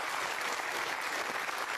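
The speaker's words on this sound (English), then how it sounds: "Give him a round of applause, ladies and gentlemen." A talk-show studio audience claps steadily for a brief stretch, an even wash of applause with no voices.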